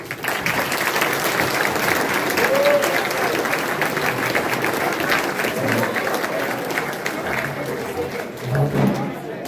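An audience at a live-streamed event applauds, a sustained wash of clapping from a crowd with some chatter and a voice speaking over it, fading slightly toward the end.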